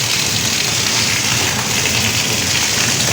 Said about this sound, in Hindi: अब बारिश देखिए कितनी तेज़ हो रही है।